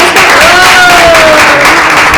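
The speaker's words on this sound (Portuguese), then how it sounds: "Uma salva de palmas pro seu Miro" An audience at a Zona Leste storytelling event applauds a storyteller with a brief burst of dense clapping. A voice or tonal sound rises briefly over it.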